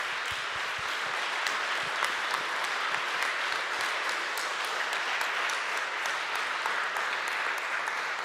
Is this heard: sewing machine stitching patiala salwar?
no